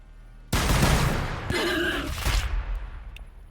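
A loud burst of gunfire erupts suddenly in the strategy game Warhammer 40K: Battlesector, a dense roaring volley that holds for about two seconds before trailing off into a fading rumble.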